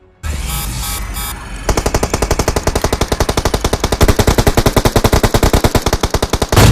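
A Groza assault rifle fires in PUBG, a long sustained automatic burst of rapid, evenly spaced shots, loud and close, after a few short bursts at the start.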